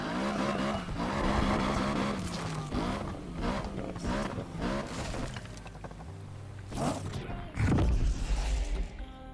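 Engine roar and revving of a car in the video game Need for Speed Unbound, loud and continuous, with crashes and impacts near the end.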